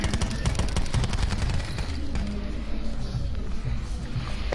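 Rapid automatic gunfire from Call of Duty Black Ops, dense bursts of shots in the first two seconds, then continuing quieter shooting and game noise throughout.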